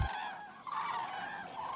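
Common cranes at Gallocanta lagoon in Aragon call in a steady, overlapping chorus of honking, trumpeting notes, moderately loud and somewhat distant, with no pauses.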